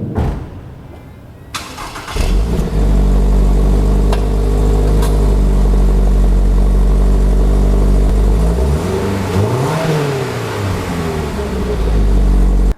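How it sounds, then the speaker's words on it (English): A 2023 Toyota GR86 sports car engine with dual exhaust starts after a moment of quiet, then idles with a deep exhaust rumble and briefly revs up and settles back down, loud and close. "you get dual exhaust tips. And here's a sound clip if you want to know what they sound like."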